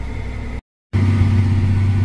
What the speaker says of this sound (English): Tractor is running really well right now.